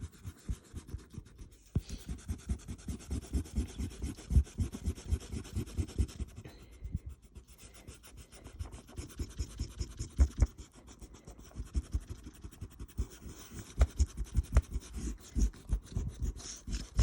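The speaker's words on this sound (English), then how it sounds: "you can then rub out your pencil lines." Eraser rubbing out pencil lines on paper around a drawn chameleon, a quiet, quick, rhythmic scratchy scrubbing that continues steadily with brief pauses.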